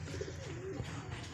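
Pigeons cooing on their perch in a loft, a steady low murmuring coo close by with no talk.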